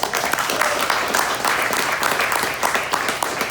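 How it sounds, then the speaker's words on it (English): An audience applauding a group of women, daughters, sisters and nieces of Comanche veterans, at a veterans' tribute event: continuous dense clapping, fairly close and loud, steady for several seconds. "So how about a round of applause for these women?"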